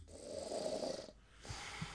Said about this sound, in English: Snoring his head off.